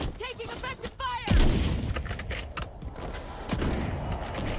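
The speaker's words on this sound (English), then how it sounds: "Taking offensive fire!" Gunfire in a video game, a run of sharp shots and bursts over mechanical clatter, with in-game voices heard over it.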